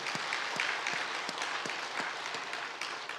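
A church congregation at a Korean Sunday worship service breaks into applause, a steady, full wash of many hands clapping together that carries on for several seconds with no voices.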